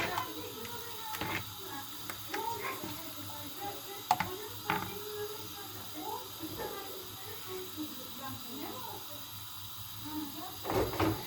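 Crepe batter sizzles in a hot pan over a flame, a faint, steady hiss scattered with small pops and crackles from the cooking.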